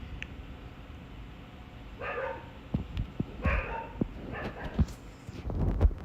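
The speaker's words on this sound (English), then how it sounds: "Why is that dog barking?" A dog barking somewhere in the background, a few scattered yips and barks at moderate distance over room noise with thumps and clicks nearby.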